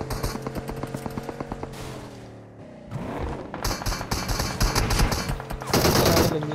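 Rapid automatic gunfire in the video game PUBG rattles in fast bursts, pausing briefly before resuming with louder, heavier volleys and booming impacts.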